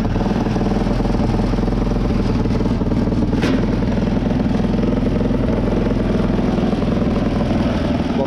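A 250cc lawn tractor engine with a modified exhaust and air leaks, running steadily close by with a loud, rough, throbbing idle and a brief sharp tick partway through.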